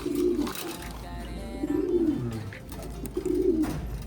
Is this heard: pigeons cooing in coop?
yes